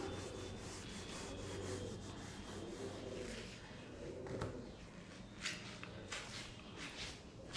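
Quiet rubbing on a surface while working a heat equation solution, a soft scratchy back-and-forth friction with a few sharper scrapes near the end, close and low in level with no talking.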